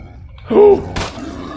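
Wild boar in S.T.A.L.K.E.R.: Shadow of Chernobyl, a young boar giving one short, loud, voiced grunt followed by a sharp noisy burst, then a low background rumble.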